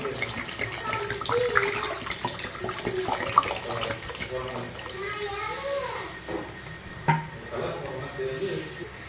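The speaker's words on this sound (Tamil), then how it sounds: "இப்போ வந்து நம்ம 600 ml தண்ணியை நம்ம சேர்த்துக்கலாம்." Water, 600 ml, pours into a cooking pan of sautéed vegetables while making biryani vermicelli, a steady running splash with a few louder splashes in a home kitchen, with children's voices faintly in the background.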